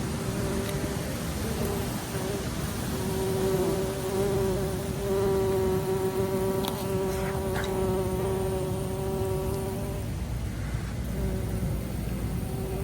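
Honey bees buzz steadily inside a swarm trap, a dense droning hum with a prominent pitched tone that swells and fades, close and continuous throughout.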